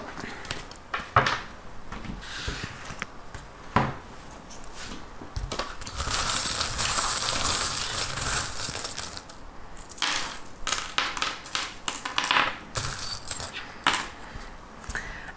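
Small metal charms are cast for a divination reading, giving a jangling, clattering rattle with clinks like dropped coins, a sustained burst in the middle among scattered lighter taps.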